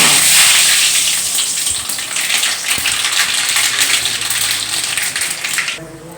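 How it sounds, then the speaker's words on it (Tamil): Mustard seeds crackling and spattering in hot oil in a pan, a steady loud broadband sizzle with dense popping that runs continuously before dropping off near the end. "இப்போ எண்ணெய் நல்லா காஞ்சிருச்சு கடுகுத வறுப்போம்"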